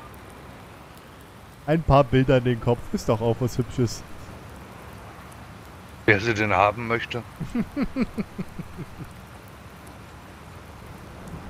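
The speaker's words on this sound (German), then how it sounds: "Wie du siehst, es regnet ja schon." Rain falling in the farming video game Farming Simulator 19, a steady soft hiss of drops running throughout, with two stretches of people talking over it.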